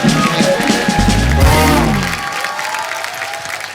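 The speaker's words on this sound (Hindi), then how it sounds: "जोरदार तालियां।" A studio audience at a comedy talk show breaks into loud applause and cheering, a dense burst of clapping that swells and then tails off under music.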